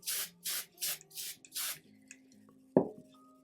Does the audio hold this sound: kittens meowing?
no